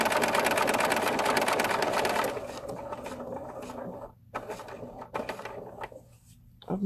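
A sewing machine with a small Teflon presser foot runs steadily, top stitching vinyl at an eighth of an inch, then slows into short stop-and-start bursts with brief pauses.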